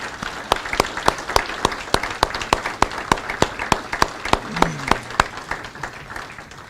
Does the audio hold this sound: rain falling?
no